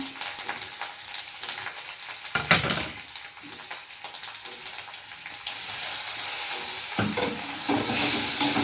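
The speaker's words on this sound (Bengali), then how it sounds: "একটু হলুদ গুঁড়ো দিয়ে আমি এটা কষতে আছি" Ginger paste, chopped green chili, bay leaf and turmeric powder sauté in oil in a pan for a curd and pointed gourd dish. A steady sizzle runs throughout, broken by spatula scrapes and a few utensil clinks, with no talking.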